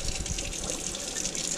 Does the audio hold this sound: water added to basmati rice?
yes